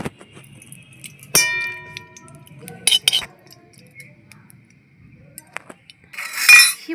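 A metal kadai set down on a lit stove, heard as a sharp clang and a few metallic clinks and scrapes against a quiet low burner hum, with another clattery rustle near the end.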